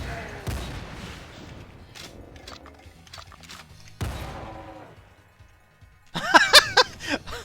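Shotgun blasts in the video game Doom: two sharp, loud reports a few seconds apart, then a dense cluster of gunfire and game effects, with a person talking and chuckling in between.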